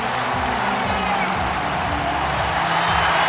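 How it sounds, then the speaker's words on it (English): Steady roar of a sold-out wrestling arena crowd from WWE 2K19, cheering loudly and continuously behind a wrestler, with a dense wash of voices and no clear breaks. "This sold-out crowd firmly behind Andrade"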